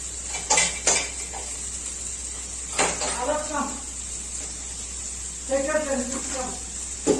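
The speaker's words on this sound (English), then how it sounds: "I'm just going to stir it with all the masalas and all" Vegetables are stirred with masalas in a pan for a veg lasagna, with clinks and scrapes of a spoon against the pan in short bursts between stretches of talking.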